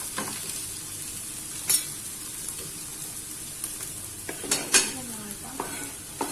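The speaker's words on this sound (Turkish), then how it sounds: "Sebzelerimizi karıştırıyorum ve domatesini ekleyeceğim." Vegetables sizzle loudly in a pan as a spoon stirs them for bulgur pilaf with eggplant, with a constant close hiss of frying broken by a few sharp metallic scrapes and clinks of the utensil against the pan.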